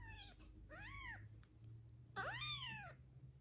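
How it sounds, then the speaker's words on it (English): A kitten yowls and cries loudly during tube feeding, giving about three rising-and-falling meows in close succession over a low steady hum, with no talking. "I actually want him to be yelling and screaming because that way I know I am going down the esophagus."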